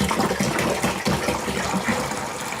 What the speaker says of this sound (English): I'm going to add in my apple juice